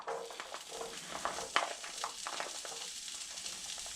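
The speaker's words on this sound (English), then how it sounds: "And we're gonna fry the beans briefly." Beans frying briefly in a small amount of oil, with a lively, close crackling sizzle and a few sharper pops and stirring scrapes throughout.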